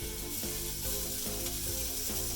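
Shrimp coated in egg wash and pork rinds frying in hot grease, giving a steady, close sizzle with faint crackles and scraping throughout.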